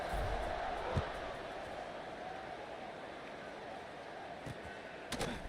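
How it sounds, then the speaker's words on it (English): A packed stadium crowd at a Kansas vs Baylor college football game keeps up a steady, dense roar after a touchdown, with a few sharp slams and thumps rising out of the wash of noise. "this crowd is buzzing after that last score"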